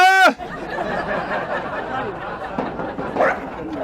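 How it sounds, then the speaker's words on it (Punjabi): A dog at a gate gives one sharp bark at the very start, followed by murmuring voices in the background. "ਕੁੱਤਾ ਭੌਂਕਿਆ"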